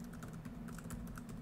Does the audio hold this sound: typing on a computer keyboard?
yes